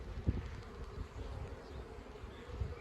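Honeybees buzz steadily around a small hive holding a slowly developing swarm, with a few bees going in and out. The hum is soft and continuous, with an occasional louder pass of a bee close by.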